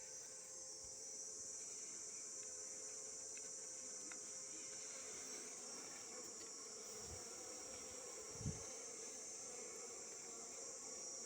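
A honeybee colony tucked in an awkward spot while its honeycomb is removed, heard as a constant high insect drone throughout, with a couple of dull thumps near the end.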